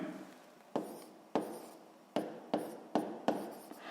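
A pen or pencil writing on paper while working a sixth-grade math exercise on rectangular box volume: six crisp, separate strokes or taps, each trailing into a brief scratch, close and quiet.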